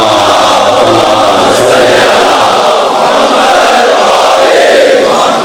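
A large gathering at a Shia religious event for Eid-e-Mubahila recites salawat aloud in unison, a dense, continuous roar of many voices that stays loud and steady throughout.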